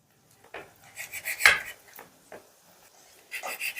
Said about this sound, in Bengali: এবার পিসটা আমি বেশ ভালো করে টুকরো করে নিচ্ছি।